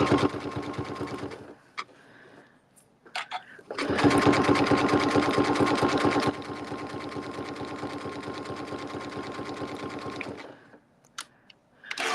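A sewing machine stitches a very narrow zigzag (width 1.7, length 1.3) while a practice panel bag is sewn. One short run is followed by a longer, steady run of rapid stitching, close and clear, with brief pauses and handling noises around it.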